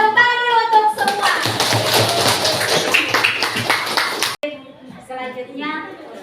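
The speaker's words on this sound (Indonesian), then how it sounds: "tepuk tangan dulu untuk semua" A class of students bursts into lively applause, many hands clapping together for several seconds, with voices before and after.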